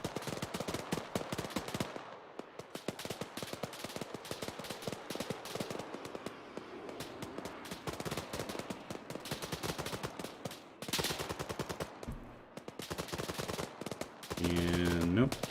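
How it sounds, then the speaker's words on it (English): Rapid bursts of Arma 3 gunfire crackle almost nonstop for the whole stretch, dense automatic volleys broken by a few short gaps, loud and close in a chaotic in-game firefight. "who the heck's shooting at me?"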